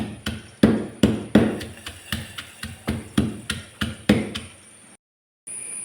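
Shallots and two or three peppercorns pounded by hand, a dozen sharp, heavy thuds in an uneven rhythm, close and loud, followed by a brief pause.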